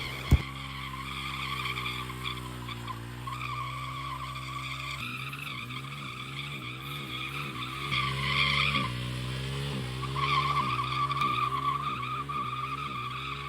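A motorcycle does a burnout as part of a stunt, its engine droning steadily while the tyre screeches and skids continuously for over ten seconds, loud and close, with surging squeals.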